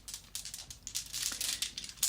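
Zodiac sign cards being shuffled inside a pouch give off soft, irregular crinkling and rustling bursts, close and quiet with no talking.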